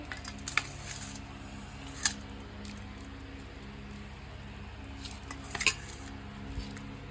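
Metal utensils clink sharply against dishes a few times while vegetable curry is served at home, isolated clear taps over a steady low background hum.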